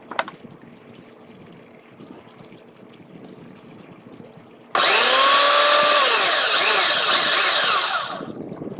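A food processor blade whirs into loud, sustained high-speed chopping of basil pesto with garlic, starting abruptly after a quieter stretch and running steadily for about four seconds before easing off slightly at the end.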